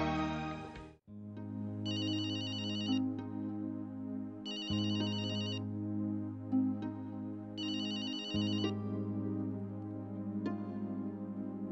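A telephone ringtone plays a repeating melodic tone pattern in three bursts, with a low sustained tone underneath. The ringing is clear and fairly close, and no one speaks.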